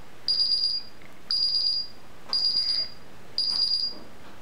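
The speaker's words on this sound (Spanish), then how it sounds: "Y ahora voy a conectar la alarma" A Paradox security alarm panel beeps in four evenly spaced, steady high-pitched tones, each about half a second long with short gaps between, loud and close in a quiet room with no talking.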